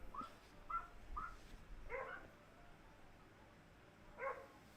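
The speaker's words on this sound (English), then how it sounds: "Please ignore the dogs in the background." Neighbor's dogs in a garden bark in short bursts of two or three, faint and distant under steady background hiss, with no talking.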